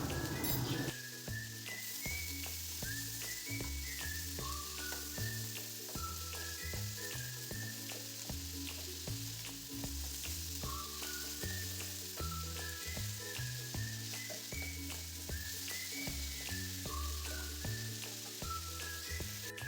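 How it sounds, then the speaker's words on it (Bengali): Cucumber frying in hot oil with turmeric and salt gives a steady, dense sizzle with crackling that runs unbroken from start to end, quiet and close, with no voices. "শসাটা তেলে একটু হালকা ভেজে নিয়েছি।"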